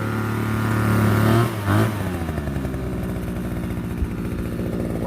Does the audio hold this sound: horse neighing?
no